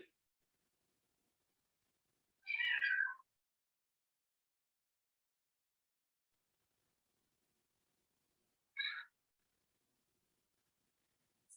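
A cat meows twice during a quiet yoga session, two short, fairly close calls several seconds apart against near silence.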